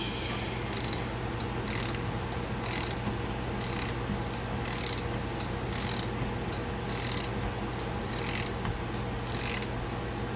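A ratchet wrench with a 13 mm socket clicks in quick bursts during a car battery upgrade, about a dozen evenly spaced strokes, close and crisp over a low steady hum.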